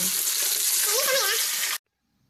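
Runny kremesan batter for fried chicken crumbs drips into hot oil, setting off a loud, dense sizzle that crackles steadily at close range, while a voice speaks under it, then cuts off abruptly into silence.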